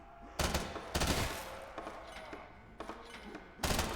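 A not-so-infinity pistol fires in a VRChat zombies game, five sharp close shots spaced unevenly across a few seconds, each with a brief fading tail.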